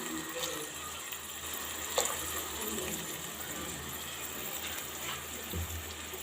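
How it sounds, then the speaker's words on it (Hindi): Water pours into a pot of keema vegetable rice with peas, a faint steady trickle heard alone at close range, with a small clink near the start. "आधा कप के बराबर मैं डाल दूँ इसमें पानी, ताकि अच्छे से जो मटर है वो भी गल जाएं।"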